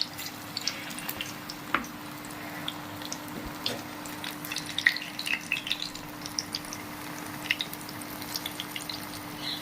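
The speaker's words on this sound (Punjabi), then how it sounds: "ਹੁਣ ਆਪਾਂ ਇਹਨੂੰ ਤੇਲ ਦੇ ਵਿੱਚ ਫਰਾਈ ਕਰਾਂਗੇ" Potato balls fry in hot oil, a soft, continuous sizzle dotted with scattered small pops and crackles, fairly quiet, with no voices.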